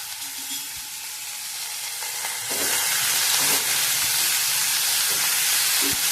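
Boiled ghevda (flat bean) pods frying in hot oil, a steady broadband sizzle that swells louder about halfway through as they are tossed, with a few soft stirring knocks and no voices.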